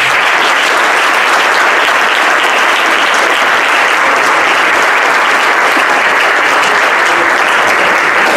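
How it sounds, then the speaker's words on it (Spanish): Very loud, sustained applause from an audience greets a dance school's dancers at an orchestra show in José C. Paz, a dense, unbroken roar of clapping that holds steady from start to finish. "Un muy fuerte aplauso para ellas."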